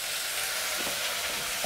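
Vegetables fry for a cheese soup, a steady close hiss and sizzle in the pan with a few soft stirring knocks, no voices.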